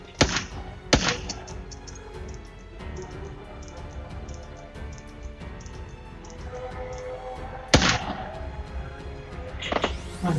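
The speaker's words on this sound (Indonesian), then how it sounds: "Wih, nembak gue dia." Gunshots in PUBG Mobile, a few sharp, loud cracks spaced several seconds apart over a low background of game ambience.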